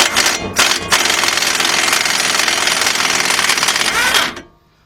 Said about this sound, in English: let's get our 1/2 inch drive gun right here, and you're going to take that nut right off of there